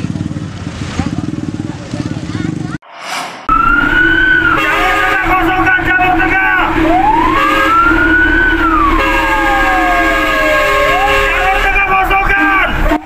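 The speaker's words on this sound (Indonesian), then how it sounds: "Rombongan mobil damkar tancap gas menembus kepadatan arus lalu lintas di tengah kota Bandar Lampung Rabu malam" Convoy of fire engines speeding through heavy city-centre traffic in Bandar Lampung at night, loud wailing sirens rising and falling with horn blasts over rumbling engines and traffic noise.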